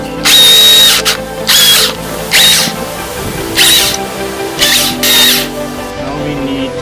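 A power drill bores into material in a forest workshop in Tasmania, Australia, in six loud whining bursts of roughly half a second to a second each, separated by short pauses with a faint squeal on some passes.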